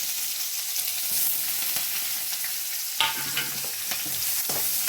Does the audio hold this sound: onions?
yes